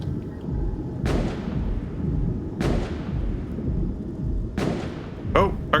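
Three heavy booming explosions in the video game Space Engineers strike at spaced intervals, each a sharp blast with a long rumbling decay, followed by a brief crackling burst at the end.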